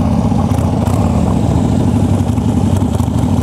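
An Ironhead Harley-Davidson Sportster engine runs loud and close, a continuous deep, rumbling drone with a rough, throbbing low end and no noticeable change in revs.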